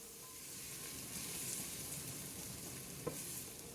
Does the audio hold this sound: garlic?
yes